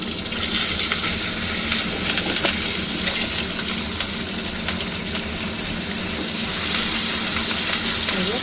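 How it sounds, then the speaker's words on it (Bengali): A piece of bata fish fries in a pan for a spicy curry, giving a steady, dense sizzling hiss that runs unbroken and fairly close, with faint clinks of stirring and no voices. "মাছটা ভাজা বসিয়েছি"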